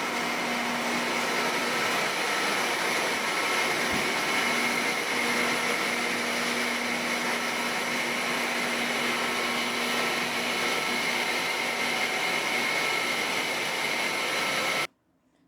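Textile finishing line with a fabric steaming machine running: a loud, continuous broadband whir with a steady mechanical hum holds constant for about fifteen seconds, then stops abruptly.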